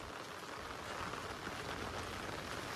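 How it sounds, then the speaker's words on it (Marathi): Heavy rain falls over a farm as a constant broadband hiss, even and unbroken, heard faint and distant with no voices. "जोरान पाऊस पडते पण तो दिसून नाही आली वाटतं कॅमेऱ्यामध्ये"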